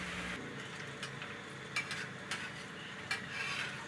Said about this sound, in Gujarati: આ રીતે આપણે બધી તળી લેવાની છે.